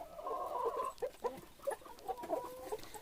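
Free-range village hens kept on a Maharashtra farm cluck in a quick series of short, close calls, with a longer drawn note at the start, over faint background noise.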